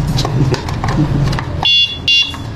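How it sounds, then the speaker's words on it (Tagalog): Two short, loud electronic horn blasts from an electric bike, with a buzzy, tonal edge, heard close up after a stretch of low rumbling background noise. "may kasama na siyang busina"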